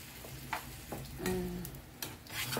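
Marinated pork liver sizzles and crackles in a hot pan, with a soft steady frying hiss and a few stirring clicks and scrapes, fairly quiet and close.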